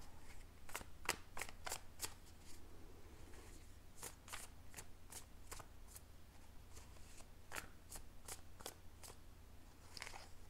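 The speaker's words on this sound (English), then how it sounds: "I do like to shuffle them again while I connect to your energy" Tarot cards are shuffled by hand in quick bursts of sharp riffling snaps, clustered irregularly across about ten seconds, close and fairly quiet against a low hum.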